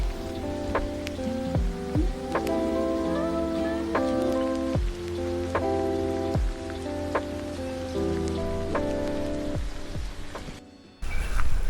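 Steady rain falls at a campsite in Pa La-U, pattering and dripping on tarp and hard surfaces with sharp individual drop hits, close and continuous before cutting off near the end.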